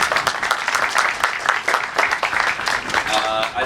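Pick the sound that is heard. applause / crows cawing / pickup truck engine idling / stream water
applause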